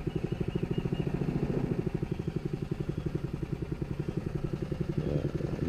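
Stihl MS180 chainsaw running during tree trimming, a rhythmic pulsing engine putter at low throttle, steady and moderately close throughout.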